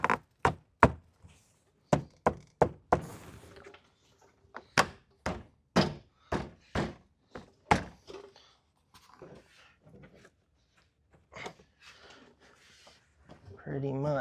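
A series of sharp wooden thunks and knocks as a car door is fitted and tapped into place on a BMW E30, in irregular bursts with quieter clattering between.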